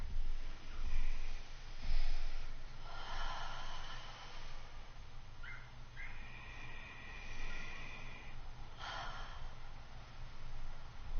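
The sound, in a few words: deep breathing together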